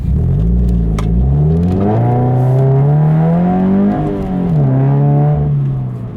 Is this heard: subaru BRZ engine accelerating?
yes